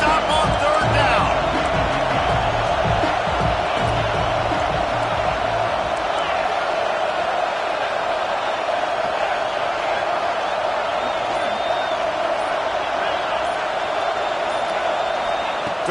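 Steady stadium crowd roar from an NCAA college football video game fills the scene continuously, loud and unbroken, with a few thuds early on and commentary voices over it.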